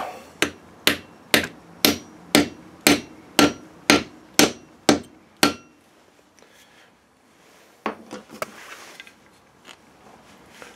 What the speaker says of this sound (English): I'm just going to give that a knock in with the hammer.